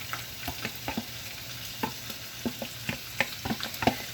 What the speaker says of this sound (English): So I'm going to fry the ingredients.